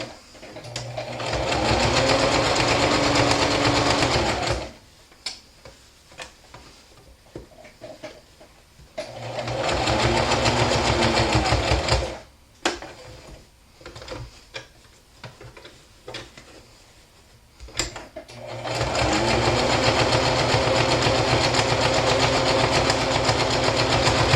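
A sewing machine stitches a cotton mask in three long, loud, steady runs of rapid whirring, separated by quieter pauses filled with small clicks and handling noises.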